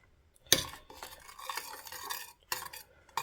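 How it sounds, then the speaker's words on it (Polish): A spoon of honey is stirred into a pot, with a sharp spoon knock against the metal, then scraping and swirling stirs and two more clinks, close and fairly quiet. "Wymieszamy sobie całość."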